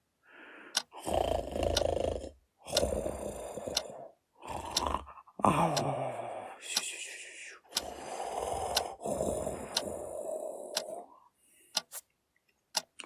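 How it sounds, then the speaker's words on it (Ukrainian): Uncle and aunt snoring loudly in a Ukrainian audiobook scene, a series of long, rasping breaths in a slow repeating rhythm with short pauses between, close and prominent with no talk. "От хропуть дядько з тіткою, ну і хропуть."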